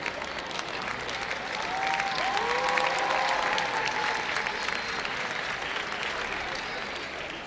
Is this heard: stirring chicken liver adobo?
no